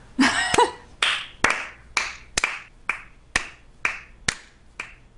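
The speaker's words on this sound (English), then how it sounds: "Can we all give TB a round of applause for having to sift through this garbage" A handful of people on a podcast clap slowly in sparse, distinct, close claps, around a dozen sharp hits spread out over several seconds with no talking.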